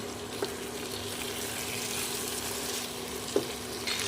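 Paneer frying in a spice paste as it is stirred, giving a continuous soft sizzle with a faint hiss, punctuated by two small utensil clicks.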